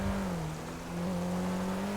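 Small smart car engine driving in GTA Online on a rainy road, a steady low droning hum with a faint whine, continuous and close, no talk.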